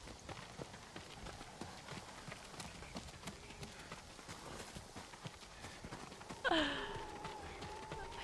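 Horses' hooves clip-clop steadily in Ghost of Tsushima, a soft, even rhythm of repeated hoofbeats throughout, with a louder brief sound near the end.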